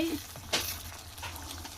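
A pan of tamarind gravy with black-eyed peas bubbling and sizzling steadily up close, with a brief clink partway through and no voices.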